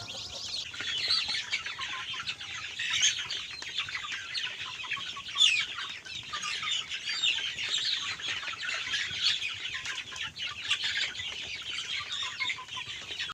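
Chickens on a small poultry farm cluck and chatter continuously in a dense flock, with scattered sharper calls and chirps rising over a steady background murmur.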